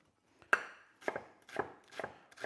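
A knife chopping a red onion on a board: five or six distinct, crisp cuts at an uneven, unhurried pace, close and fairly quiet with silence between strokes.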